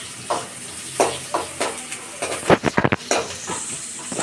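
Garlic frying in hot oil while cooking vada, with a steady sizzle broken by several short bursts of stirring and spattering, close and fairly loud.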